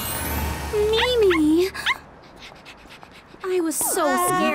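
A cartoon puppy in the animated series Tayo the Little Bus whimpers and yips in short, high, voice-acted cries, with pauses between bursts and a faint background bed.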